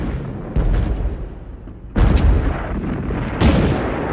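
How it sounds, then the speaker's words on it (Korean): German artillery opens fire on the Western Front in the First World War's March offensive, with three heavy booming blasts that land in sequence, each followed by a long, deep rumbling roll. "오전 4시 40분 독일군이 포문을 엽니다."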